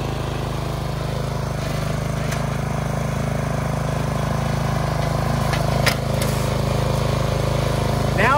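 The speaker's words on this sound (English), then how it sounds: "this allows me to back the tiller up without having to use my strength" Troy-Bilt Bronco garden tiller engine running steadily at close range, a loud continuous drone with a low hum and a few brief clanks near the end.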